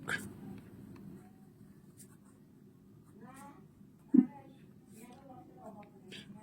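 Pen on paper while the multiples of seven are written out by hand for a class 5 maths problem: a faint, steady scratching, with one sharp knock partway through.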